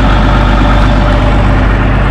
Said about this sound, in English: So we got tractor warming up.